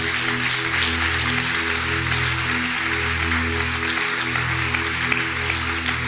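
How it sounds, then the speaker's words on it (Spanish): A church congregation applauds, a broad, steady wash of clapping running the whole time over sustained low musical tones. "Dale un fuerte aplauso a Jesús."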